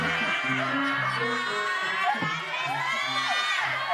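A studio audience at a TV talk show cheers and shouts loudly and continuously, a dense roar of many voices that stays strong throughout.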